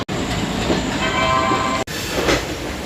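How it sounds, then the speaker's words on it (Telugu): Inside the Visakhapatnam–Machilipatnam Express on the run from Rajahmundry toward Bhimavaram, a loud, steady rumble of the moving coaches fills the space, broken by two brief sharp cut-outs. "ఇప్పుడు మనం విశాఖపట్నం మచిలీపట్నం ఎక్స్ప్రెస్లో ఉన్నామండి"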